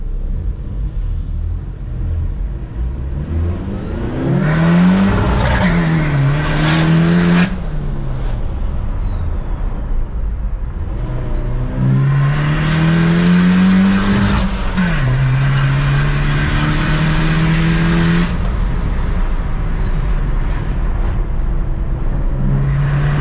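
A Ford Ranger turbo pickup accelerates and drives on, its engine rising in pitch twice, with clear gear changes in a steady loud roar and no talk over it.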